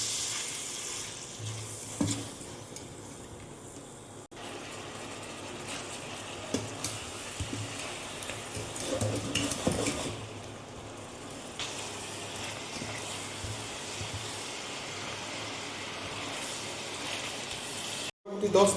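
Chicken pieces fry in a pan for a Mughlai-style chicken korma, giving a steady close sizzle with scattered stirring scrapes and pops, swelling in the middle and cutting off briefly near the end.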